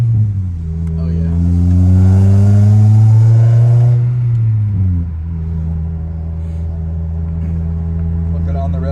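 A car engine revs up from inside while driving, its tone rising steadily into a loud strained peak, then dropping sharply and settling into an even lower drone.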